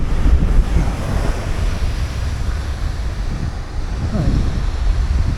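Sea surf breaking on a Portuguese beach, a steady roar of waves with gusting wind buffeting the microphone and one brief spoken word.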